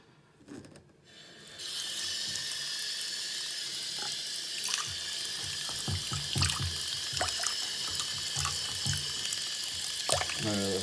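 Water from a tap runs steadily as a dirty air filter from a 2010 Harley-Davidson Electra Glide Ultra Limited is rinsed, the spray hissing continuously with occasional splashes and clinks after a brief start.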